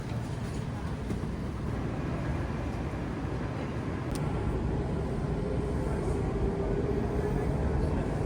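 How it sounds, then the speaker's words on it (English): Steady, loud rumble of a moving Washington, DC train heard from inside, a constant low roar with rattling that swells slightly toward the end. "All right, we're on the train."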